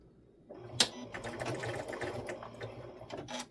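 Sewing machine stitching down the fabric edge of a cuddle kit, running in a quick, even whir of needle strokes for about three seconds after a brief click, fairly quiet and close, with no talking.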